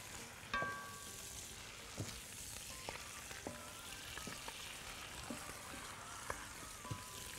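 Cubes of meat sauté in a hot pan with a steady close sizzle, broken by scattered pops and light clicks as they cook.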